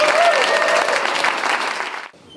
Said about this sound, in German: Einen kräftigen Applaus